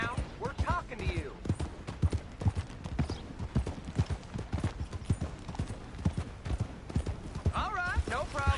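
Horse hooves clip-clop steadily and close by in Red Dead Redemption 2, a regular trotting rhythm running under ongoing conversation between characters, with a brief whinny-like pitch near the end.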